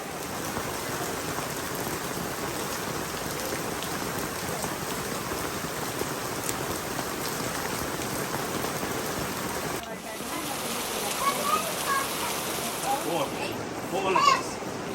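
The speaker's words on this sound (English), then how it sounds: "it's raining," Rain falls at a campsite in a continuous, close patter of drops on surfaces, briefly changing tone partway through, with a few sharper splashes near the end.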